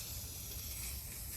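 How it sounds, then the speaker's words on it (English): A faint, steady hiss of an aerosol can of gray primer spraying continuously for a moment, with no pauses. "I've got my rattle can of gray primer. And I need to spray these trees"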